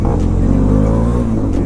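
A motorcycle engine revs loudly and steadily while being ridden, its throttle rising and easing back over a continuous close-up drone.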